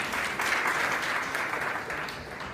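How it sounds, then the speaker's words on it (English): Audience at a climate change summit side event in Kisumu claps steadily, a dense even round of many hands lasting a couple of seconds with no voices over it. "Let's give him a clap."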